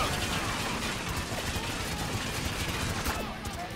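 Rapid gunfire bursts from the war shooter game Spec Ops: The Line crackle continuously over dense in-game background noise, loud and sustained.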